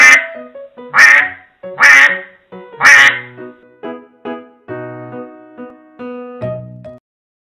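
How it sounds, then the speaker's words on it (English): An Anpanman educational toy duck quacks four times in a loud, evenly spaced series, then a brief electronic jingle plays before the sound cuts off. "Duck."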